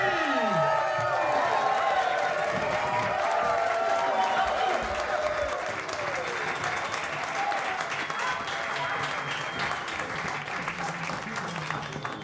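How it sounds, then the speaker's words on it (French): An audience in an action film bursts into loud sustained applause with cheers and shouts. The dense clapping continues steadily throughout, with raised voices mixed in. "messieurs, dames, veuillez applaudir bien fort Elie Navassi."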